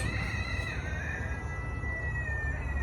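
A Silkie rooster crows in the background, thin and drawn out, over steady low outdoor noise.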